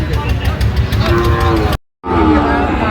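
Sahiwal cattle at a farm, one animal mooing loudly and close in long, drawn-out lowing calls, broken by a short gap and then a second call.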